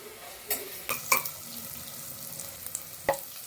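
A soybean dish fries in a pan with a soft, steady sizzle beneath a few sharp clinks and scrapes of stirring, fairly faint and without speech.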